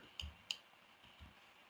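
Two sharp computer mouse clicks, quiet and close, spaced about a third of a second apart over a faint room hum with no talking.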